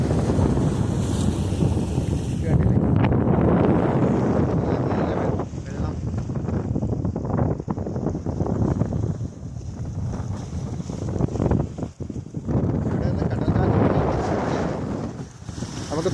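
A boat far out at sea off Kudagiri Island in the Maldives rumbles along under heavy, buffeting wind noise and the wash of waves, loud and continuous with no clear pauses.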